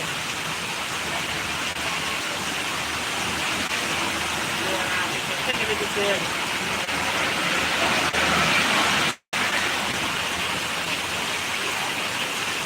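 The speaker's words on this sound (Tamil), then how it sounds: "சரியான மழை விருதுநகர் மாவட்டம் ராஜபாளையத்தில் சரியான மழை பெய்கிறது" Heavy rain pours down in Rajapalayam, Virudhunagar district, making a steady, close, hissing wash that holds at an even level, with one abrupt brief cut near the end.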